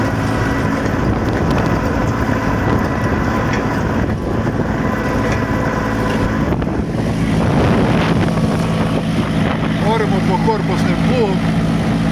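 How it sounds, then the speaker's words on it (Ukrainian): Steady wind rumbles and buffets the microphone outdoors by a freshly ploughed garden plot, a constant low roar with some faint background sounds. "Трошки вітер."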